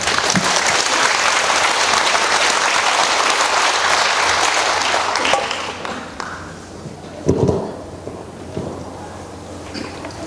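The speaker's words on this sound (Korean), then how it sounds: "먼 길 와주신 김영식 소장님 큰 박수로 환영해 주시기 바랍니다" Audience applause greeting a guest lecturer at a laughter-yoga health talk during an integrative medicine fair in Jangheung, Korea; loud dense clapping for about five seconds, then thinning into scattered claps and a few louder bumps.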